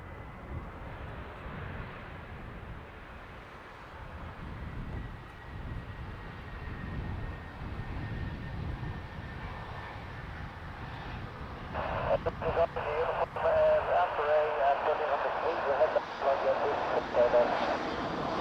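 A Ryanair airliner from Hamburg flies in to Dublin Airport as a distant, low engine rumble that swells louder toward the end, with a person talking over it.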